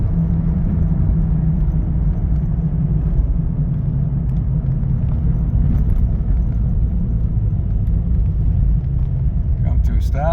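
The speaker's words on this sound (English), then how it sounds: "step on the brake and see if it hangs up at speed or comes down to a nice idle" The engine of a 1998 Jeep Cherokee XJ rumbles continuously inside the cabin as the brakes slow it to a stop. A voice talks over the engine throughout.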